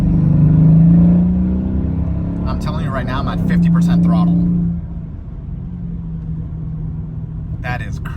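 A tuned Mercedes-Benz R231 SL550 with ECU and TCU tuning pulls hard at half throttle, its engine rumbling steadily and closely beneath excited talk from the driver.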